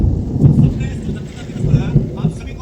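Steady rain with deep, rolling thunder rumbles swelling and fading close by, under the noise of falling drops.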